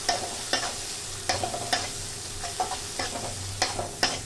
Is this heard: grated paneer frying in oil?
yes